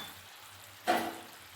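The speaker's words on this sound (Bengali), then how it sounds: "মশলা ভালোভাবে ভাজা হয়ে গেছে। এর মধ্যে দিয়ে দেবো ফেটানো টক দই।" Whisked sour yogurt hits spices frying in a pan, sparking one short, sharp sizzle burst that quickly fades back into a faint, quiet background.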